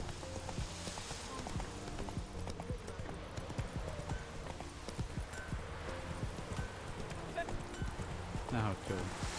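Hooves of the horse Roach clip-clopping in a steady gallop from The Witcher, carrying through the whole stretch beneath someone talking over it.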